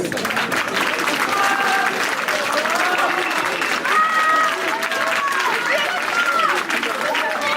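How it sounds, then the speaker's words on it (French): Dense, sustained applause fills a high school hall during an eloquence contest, steady and loud, with whistles and crowd voices woven through the clapping. "Je vous laisse applaudir Thomas Nguyen qui va nous dire ce qu'il en pense."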